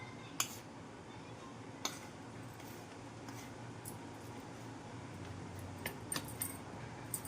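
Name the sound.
mixing prasad with a spoon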